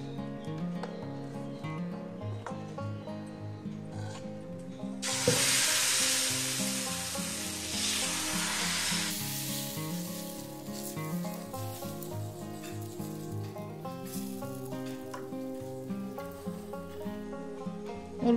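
Batter poured onto a hot tawa greased with a little oil, giving a sudden loud sizzle that continues over background music and slowly settles.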